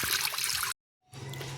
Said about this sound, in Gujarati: જો અહીંથી મોટર ચાલુ કરીને એટલે અહીંયા પાણી આવે